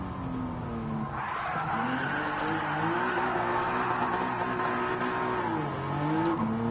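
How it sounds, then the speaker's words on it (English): A car in Gran Turismo 7 skids through an e-brake turn, its tires squealing steadily for several seconds over a droning engine, with no talk. "Let's try the little e-brake turn."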